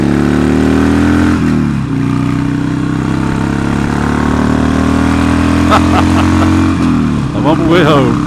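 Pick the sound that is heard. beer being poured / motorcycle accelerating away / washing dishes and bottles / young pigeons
motorcycle accelerating away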